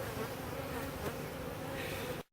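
Honey bees from a nuc being installed in a backyard hive buzz in a continuous, close, humming drone that holds steady and then cuts off abruptly at the end, with no talk.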